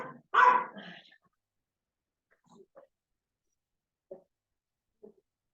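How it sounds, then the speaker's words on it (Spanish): A dog indoors barks in one loud burst, followed by a few faint, scattered yips and whimpers trailing off into quiet. "voy por Agustín para que deje de ladrar"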